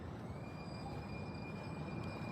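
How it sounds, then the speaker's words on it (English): A San Francisco Muni train passes along a city street, producing a steady low rumble with faint high-pitched whining tones held above it, fairly quiet and continuous. "Then the Muni train will appear,"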